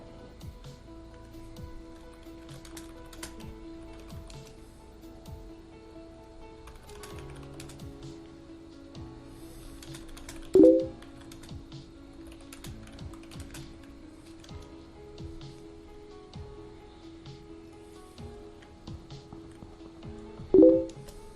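Keyboard typing in a home setting plays at a moderate level throughout, with quiet clicking under a low steady hum and two brief louder knocks.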